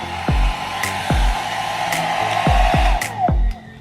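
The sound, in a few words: Funtin travel-size hair dryer blowing air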